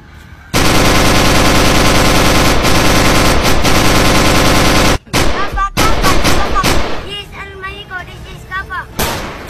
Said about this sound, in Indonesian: Aksi baku tembak antara petugas kepolisian dan kelompok perampok berlangsung 6 jam.